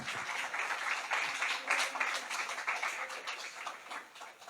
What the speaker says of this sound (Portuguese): pode aplaudir o Senhor mais uma vez?